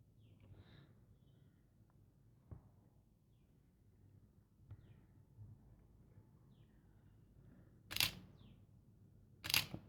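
A Canon camera shutter set to 1/25 second fires twice, two sharp, fairly close clicks near the end after a quiet stretch with faint background hum.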